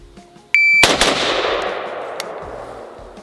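A single loud shot from a Franklin Armory M4 rifle fired in semi-automatic mode, with a sharp crack followed by a long decaying echo and a faint later clink, and no talking.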